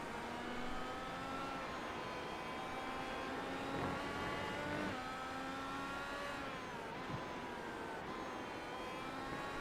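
Race cars in the iRacing IndyCar video game at the Grand Prix of Belgium, several engines droning together at high revs with shifting pitch as cars pass, a steady loud wash across the whole stretch.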